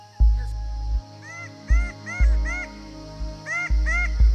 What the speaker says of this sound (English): Oh my God, red bird of paradise.